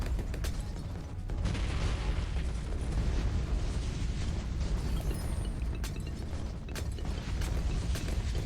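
Explosions in a video game as things are blown up, a steady dense rumble of blasts and booms filling the whole stretch, loud and continuous with a few sharper bursts.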